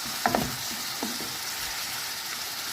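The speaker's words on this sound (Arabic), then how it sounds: "نخليه يتقلى مع بعض شوية" Onions and tomatoes fry steadily in a pan, a continuous close sizzle with a couple of brief stirring scrapes near the start.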